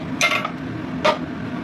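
Oily kitchen containers being washed: two short, bright clinks, the first a quick cluster and the second a single knock about a second later, over a low steady background.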